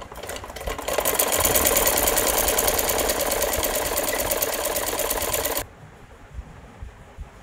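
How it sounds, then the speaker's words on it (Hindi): A home sewing machine, under repair for poor bottom stitching, runs a test seam on fabric with a steady, loud, fast mechanical whir that stops abruptly, followed by quiet handling noises. "अब इसको एक बार सिलाई करके इसको स्टिच करके देखते हैं कि ये प्रॉपरली स्टिच हो रहा है या नहीं हो रहा है।"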